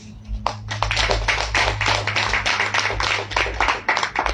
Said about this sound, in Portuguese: Let's just put our hands together for ourselves.